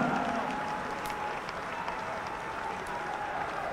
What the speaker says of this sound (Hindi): अपने स्थान पर खड़े होकर जोरदार तालियों की गड़गड़ाहट के साथ अभिनंदन करें।